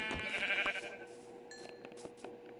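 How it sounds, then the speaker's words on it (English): Several sheep bleating nearby on a farm, a loud drawn-out cry first, then a few shorter, thinner bleats from other animals, with a faint rustle of movement and no talk. "here's a few sheep"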